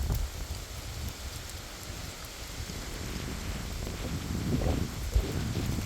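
Rain falling as a storm arrives in a rural Thai yard, a steady soft hiss of drops that thickens and grows louder toward the end, with scattered gusty rustles and no voices.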